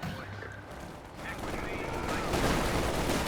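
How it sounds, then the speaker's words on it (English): Gunfire rattles in a Company of Heroes 2 battle, with dense bursts of small-arms and machine-gun shots growing louder and busier over a few seconds. "He's getting shot to pieces over here."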